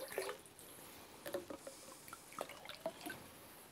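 Ocean water poured and measured into a container for an IMO 3 mix, faint close trickles and small drips in short irregular bursts, no talking.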